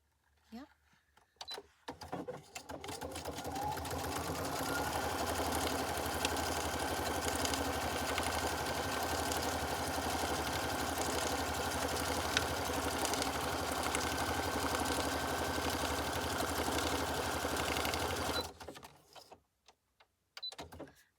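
Sewing machine stitching rounds on paper craft work, a steady loud whirring run that ramps up after a couple of seconds and holds for about fifteen seconds before stopping, with talking throughout.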